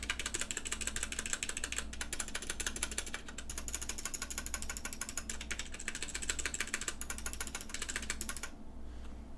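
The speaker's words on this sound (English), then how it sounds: "And these are some of the stabilized keys that I think are just rattly and loud." Stabilized keys on a budget mechanical keyboard being typed close up, a dense, rattly and loud clatter that runs nearly nine seconds before stopping.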